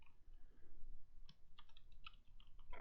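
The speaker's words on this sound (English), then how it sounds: "just type in his name" Keys clicking on a computer keyboard as a name is typed, a quiet run of light irregular taps with short pauses between bursts, close by and with no voices.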